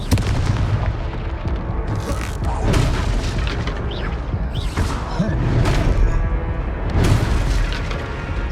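Deep booming blasts from the Confringo fire spell in the game Hogwarts Legacy, several heavy explosions landing in bursts over a rumbling battle mix with brief whooshes between them.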